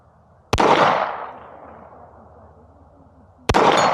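Two sharp gunshots fired at a steel plate target about 65 yards out, using a Spina red dot optic, spaced about three seconds apart, each with a loud crack and a long fading rumble outdoors.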